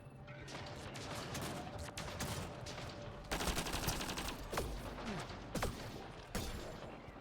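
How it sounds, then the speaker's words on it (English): Rapid gunfire rattles through a firefight in the video game Mass Effect Andromeda, bursts and sharp cracks overlapping continuously with louder shots punching through, close and dense, with no talk over it. "Oh, I'm also being shot at."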